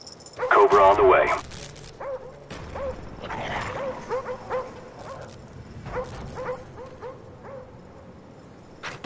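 Attack dogs in the Call of Duty: Black Ops video game bark and yip in sharp bursts amid other game sounds and voice callouts, loudest near the start, then scattered barks continuing.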